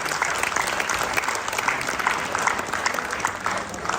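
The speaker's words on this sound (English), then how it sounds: "Please give them a round of applause." Audience applause at an annual community event, steady dense clapping from a crowd filling the whole stretch at an even level, with no talk over it.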